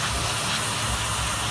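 Spray paint hisses steadily from a can onto a painted kaiju figure during a live painting demo, a continuous close, even airy spray with no pauses and no talking.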